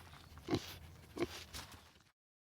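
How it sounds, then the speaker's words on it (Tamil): A domestic pig gives two short, fairly faint oinking grunts about half a second apart, then the sound stops and silence follows. "பன்றி. பன்றி."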